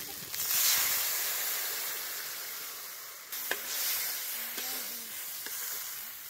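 A loud burst of hissing sizzle as water hits frying masala in a hot pan for a fish curry gravy, easing into a steady simmering crackle with a few light clinks.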